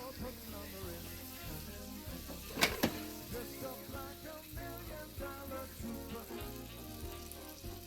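Butter melts and sizzles in a pan for vegetarian penne rigate, giving a soft, continuous crackle under a person talking, with a couple of sharp clicks midway.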